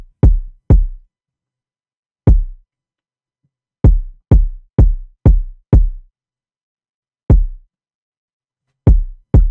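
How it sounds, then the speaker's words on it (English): Punchy electronic kick drum from a beat built in FL Studio, heard alone as sharp low thumps in an irregular pattern, some in quick doubles, loud and close with short decays. "I think I added the kick first."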